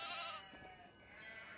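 Sheep in the Nancy Drew game The Haunting of Castle Malloy, giving a brief, quiet bleat over soft ambient game background.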